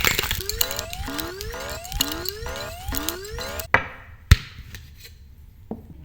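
A single piece of ice rattles inside a cocktail shaker holding lemon juice and spirits, knocking back and forth in a fast, regular rhythm for a few seconds before stopping, followed by a couple of isolated knocks.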